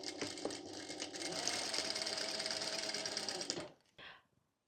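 Thrifted clothes run through a sewing machine in a close, rapid mechanical rattle that holds steady for nearly four seconds, then cuts off with a short final burst.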